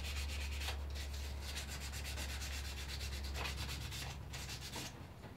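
A wooden thumbstick is sanded by hand with fine 400 grit sandpaper, giving soft, close, rhythmic rasping strokes repeated steadily with short pauses between passes.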